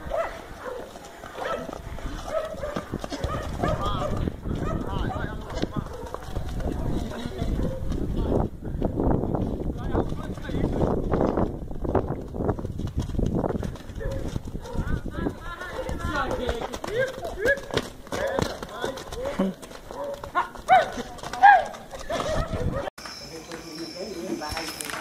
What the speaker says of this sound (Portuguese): A revolta do jumento.